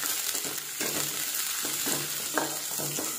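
Onions sauté in hot oil at the start of a fish curry. A moderate sizzle carries on under several bursts of stirring and scraping, spaced about every half second to one second.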